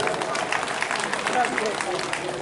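A crowd at a Bhagwat Katha devotional event in Durgapura, Nagda, keeps up a continuous patter of hand clapping, fairly loud and unbroken, with faint voices mixed into the wash.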